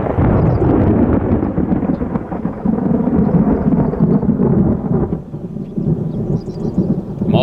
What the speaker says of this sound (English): Really good summertime thunder.